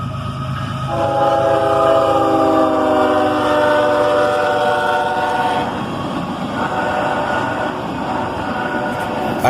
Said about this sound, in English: an ES-44 ACH leads an autorack train north at dusk